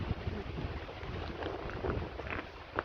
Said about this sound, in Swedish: Det blåser nu på ner på vägen.